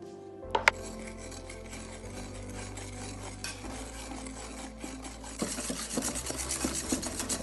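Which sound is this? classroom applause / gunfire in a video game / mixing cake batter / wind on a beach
mixing cake batter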